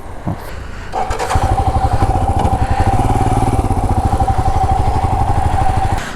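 Royal Enfield Himalayan BS6 motorcycle at a beach parking spot, its single-cylinder engine starting with a thump and settling into a loud, close, rhythmic thumping idle that runs steadily without talk.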